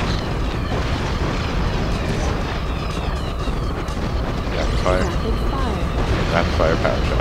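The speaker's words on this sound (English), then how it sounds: "Rapid fire power shots." Rapid-fire power shots in the I-Ninja video game form a dense, continuous barrage of booming, explosive bursts. They stay loud and unbroken throughout, layered over busy game effects.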